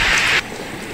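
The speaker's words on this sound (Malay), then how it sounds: "Ternyata hujan turun dengan lebat." Heavy rain pouring over mountains near a village shelter, a steady dense hiss that drops abruptly in level partway through the brief moment.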